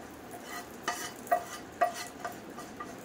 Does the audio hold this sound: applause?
no